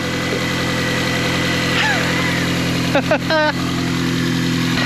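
A Mini's engine idles steadily just after its first start following repair, a low, even rumble with a rhythmic pulse, while a voice speaks over it near the end.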